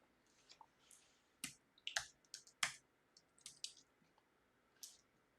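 Sparse, quiet keystrokes on a computer keyboard: a handful of light clicks tapped in irregular clusters against a near-silent background.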